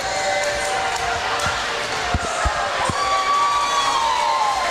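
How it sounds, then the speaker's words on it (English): Crowd noise fills a natatorium at a collegiate swimming championship as fans cheer the men's 200-yard breaststroke field on the blocks, with steady broad cheering, a few sharp knocks and a whistle-like tone, loud and continuous. "Fans are on their feet cheering on the men."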